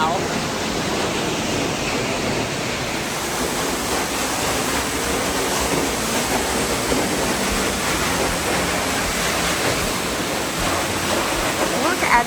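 A powerful waterfall along Oregon's Trail of Ten Falls roars as a steady, broadband rush of churning water, loud and close, holding constant without pause while a hiker's voice occasionally sounds over it.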